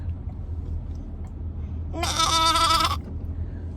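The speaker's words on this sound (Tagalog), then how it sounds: "Goat." A goat bleats once, a loud, wavering call of about a second standing alone over a low steady background hum.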